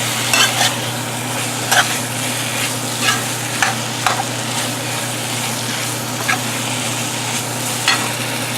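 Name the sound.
potatoes and tomatoes frying and being stirred in a pan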